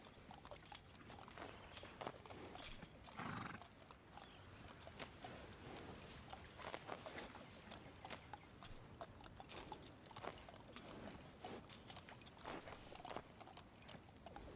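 Horse hooves clip-clopping in Red Dead Redemption 2, faint and distant, an irregular patter of steps with small mechanical creaks; no whinny stands out.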